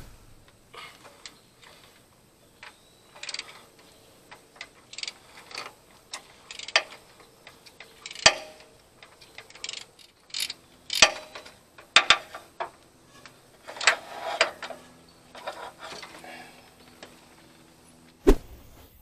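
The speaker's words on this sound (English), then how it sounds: "So I'll go ahead and get this sensor off and then screw our other sensor in place, which hopefully doesn't require such a large wrench or anything." A wrench turns an old oil pressure sensor out of an engine, giving scattered metallic clicks and taps at irregular intervals, close but fairly quiet, with no talking.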